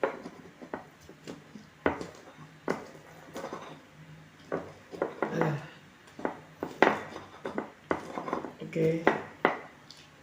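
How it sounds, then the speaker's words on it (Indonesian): Chili, garlic and shallots are pounded in a stone mortar for ayam geprek, with irregular knocking and grinding thuds that come quickly in uneven clusters, and brief talk is heard between them. "lalu kita geprek dulu untuk cabai, bawang putih dan bawang merahnya"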